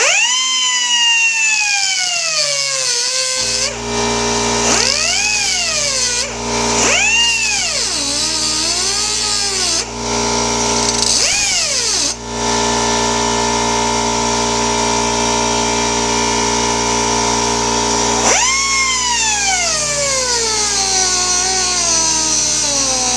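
A cutoff wheel slices an X into a clutch rivet head while a Wiseco clutch kit is fitted to a Yamaha YZ250F, giving a continuous high whine whose pitch dips and recovers each time the wheel bites the metal.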